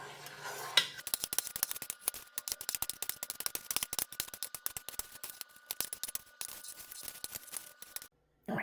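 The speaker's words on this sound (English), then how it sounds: "And now we cut the curd." A knife cuts through set cheddar cheese curd in a pot at home, producing a long run of rapid, crisp scraping strokes and light metallic clicks that continue steadily until a brief pause near the end.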